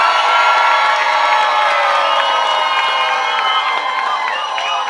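A large crowd at a music cruise event cheers and applauds loudly and continuously, a dense roar of shouts and whoops that holds steady throughout.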